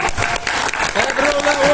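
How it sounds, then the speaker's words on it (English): Debate audience members clap briefly in a fairly loud, dense burst of applause with voices mixed in underneath. "can you give a clap?"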